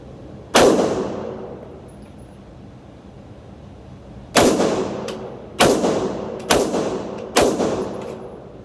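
Five sharp gunshots fired at a paper target while shooting a group, one isolated shot followed after a long pause by four more spaced about a second apart, each a loud crack with a short decaying tail.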